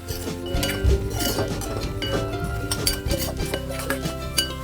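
Malvani masala, garam masala and hing are stirred in a pan for an oyster curry, with a spoon scraping and clinking against the metal steadily and close, no voices over it.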